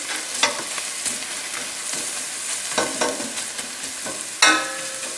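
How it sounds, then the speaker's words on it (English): Spinach and onions sautéing in a pan, a steady close sizzle with several sharp stirring scrapes and tosses, the loudest near the end, no voices. "there goes the spinach. You have to constantly move this because it's going to cook very quickly"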